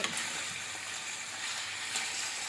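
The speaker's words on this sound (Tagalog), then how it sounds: "Ihalo lang natin siya para maano yung chicken sa mantika." Chicken pieces are stirred in hot cooking oil, giving a steady, bright sizzle with faint scraping and bubbling throughout.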